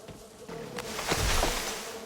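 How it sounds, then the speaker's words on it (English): A swarm of bees in a video game gives off a continuous droning buzz that rises and swells over a couple of seconds, close by, with no voices. "You got a swarm of bees following you now, too."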